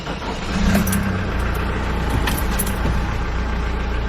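A high-mileage family car with a 2-liter turbo engine starts up close by. A short crank catches within half a second, and the engine settles into a steady, loud idle.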